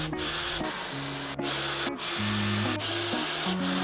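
Power drill driving screws into a Billie Bars tailgate cover, close and loud, its motor whining in repeated bursts that shift pitch as it speeds up, slows and stops between screws.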